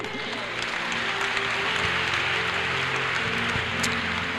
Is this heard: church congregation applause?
yes